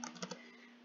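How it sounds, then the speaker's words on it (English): A few quick, faint keystrokes on a computer keyboard as a game code is entered, a short cluster of clicks over a steady low hum, then quiet. "So here we go, we're going to type it in."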